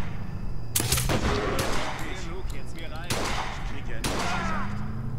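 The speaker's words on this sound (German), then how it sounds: "Auf wen oder was schießen die denn nur alle?" Gunfire in the video game BioShock Infinite Burial at Sea: several sharp, loud shots spaced about a second apart, ringing against a busy game background.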